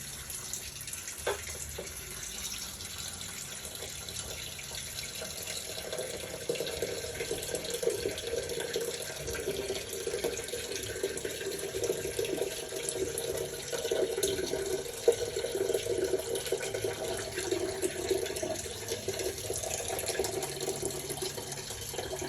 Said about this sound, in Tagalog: And then, lalagyan na natin ng mineral water.